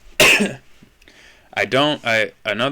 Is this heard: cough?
yes